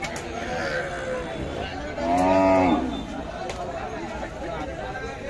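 Cows at the Saturday Kaharol cattle market in Dinajpur, where dairy cows and calves are sold. One cow gives a single loud, close moo midway through, over steady crowd chatter and background hubbub.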